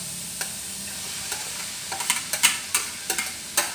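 Pork stir-fries with carrots and long beans in a hot pan: a low sizzle under a quickening series of sharp spatula scrapes and clacks against the metal.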